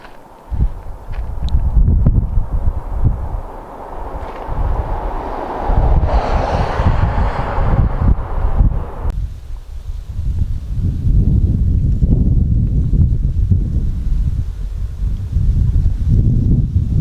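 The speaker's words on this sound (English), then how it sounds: "it's ridiculously windy out here" Strong wind buffets the microphone in a steady, loud rumble throughout, with gusts surging and easing; no voices.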